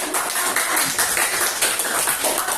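Audience clapping after a group presentation in a classroom, a dense, steady patter of many hands filling the short moment without talk.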